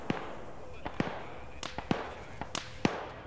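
Sharp, scattered detonation cracks from a Escape from Tarkov firefight, several loud bursts at irregular intervals among lighter pops, over a steady background hiss.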